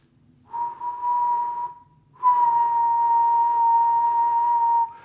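A person whistles a steady, pure tone in two long held notes separated by a brief pause, close and clear with no talking.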